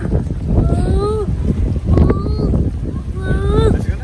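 Strong wind roars steadily across the microphone throughout, with a child crying in high wavering wails and people talking nearby.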